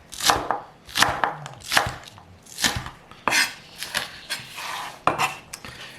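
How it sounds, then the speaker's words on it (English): A knife roughly chops ingredients for chicken liver pâté on a board, giving about a dozen crisp, close knocks in a quick, uneven rhythm with no voices. "So just roughly chop them to start with."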